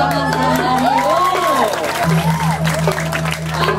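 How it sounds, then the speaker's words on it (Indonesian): A crowd at a Balinese gamelan and barong performance applauds and cheers in a steady, loud wash, mixed with voices and tonal music throughout. "tepuk tangan"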